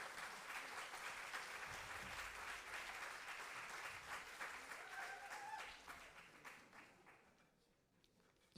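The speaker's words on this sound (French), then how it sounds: "Voilà, vous pouvez les applaudir." An audience applauds in an amphitheatre at the opening of an international forum, sustained dense clapping that gradually thins and fades out toward the end.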